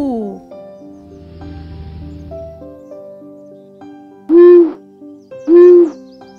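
An owl gives two loud, rounded hoots about a second apart near the end, over a soft sustained musical backing.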